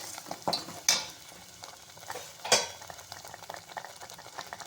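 Curry leaves dropped into a hot pan for a vegetable kurma, giving a few sharp crackling bursts over a soft, steady sizzle, close and without speech.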